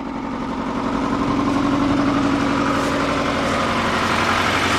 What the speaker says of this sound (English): we got a misfire here